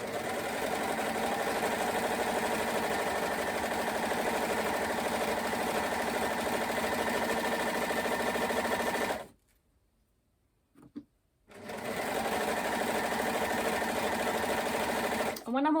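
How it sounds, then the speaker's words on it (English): Overlocker stitching and trimming pyjama fabric with a fast, steady whirr close by, stopping for about two seconds of near silence before starting up again. "I'm just taking a tiny bit off as it's overlocking it down."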